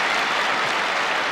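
A show-jumping crowd at the close of the 1982 season cheers rider Nick Skelton home, a dense, loud, sustained roar of applause and cheering with no break.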